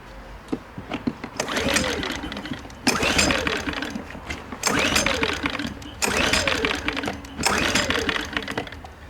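A new portable generator with the choke on is pull-started repeatedly: four long rasping bursts of recoil-cord pulling and engine sputter, each around a second or more, separated by short pauses, loud and close.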